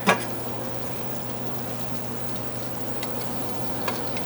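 Banana chilies and a bell pepper tossed into a hot frying pan sizzle in a steady, continuous hiss, close and unbroken, with no voices.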